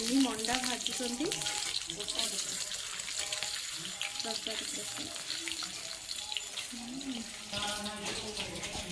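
Semolina manda pitha fries in ghee for a Surya Narayana puja, giving a steady close sizzle and crackle with voices talking intermittently over it.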